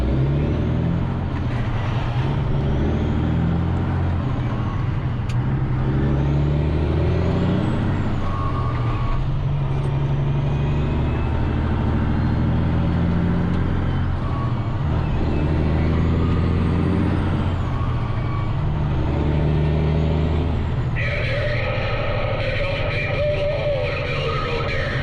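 A convoy of logging trucks heading to a mill rumbles past in a heavy, continuous drone with rising and falling engine surges and a few hissing air-brake releases, loud and near throughout.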